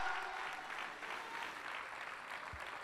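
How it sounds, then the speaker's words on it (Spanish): A church congregation claps during a Sunday morning service, a dense steady applause lasting a few seconds, with a single low thump near the end. "eso es para que le demos un aplauso bien fuerte esta mañana a nuestro Señor Jesucristo"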